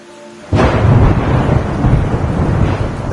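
Loud thunder crack from a storm in the video game Endling: Extinction Is Forever, bursting in suddenly after a quiet moment and rolling on in a heavy rumble with rain-like hiss.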